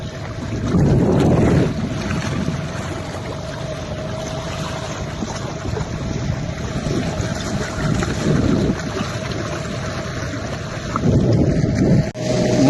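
Strong wind on a fishing boat out on the Arabian Sea, a constant rumbling gusty roar with heavier buffeting bursts near the start and end, with no clear talk over it.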